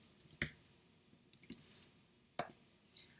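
Sparse clicks of computer keyboard typing, a few sharp isolated keystrokes separated by pauses, close and fairly quiet with no talk.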